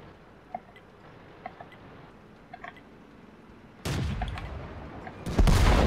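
Tank cannon fire in World of Tanks sounds as two loud booming shots, the first near four seconds and a heavier blast near the end, after a quiet stretch of faint background game sounds.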